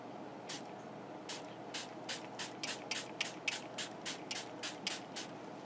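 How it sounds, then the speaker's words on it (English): A hand spray bottle fires about a dozen sharp, airy mists in a quick, fairly even rhythm, close and clear against a quiet room with no talking, during a mixed media craft project. "grab the spray bottle"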